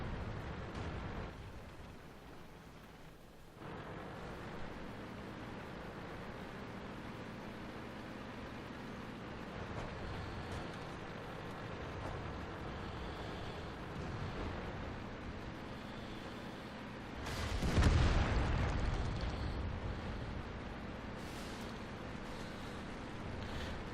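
Distant artillery rumble under a steady battlefield drone in World of Tanks, building to one loud, broad explosion late on that decays slowly back into the background.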